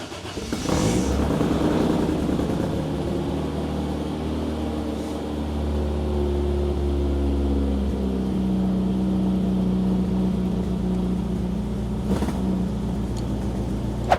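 A classic car fires up and idles steadily, a loud close engine rumble with a rough low throb that lifts slightly in pitch partway through; no one talks.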